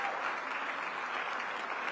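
Sustained audience applause fills a luncheon hall at the Full Democracy Champions Luncheon, a dense, steady wash of clapping from a large crowd that holds at an even, loud level throughout.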